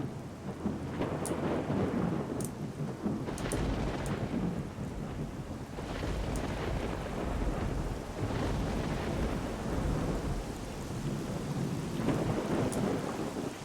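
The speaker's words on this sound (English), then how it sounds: "Or is that just a natural thunderstorm for once?" Thunderstorm in the video game S.T.A.L.K.E.R.: Call of Pripyat, with dense steady rain and repeated deep rolling thunder rumbles swelling and fading throughout, loud and close with no voices.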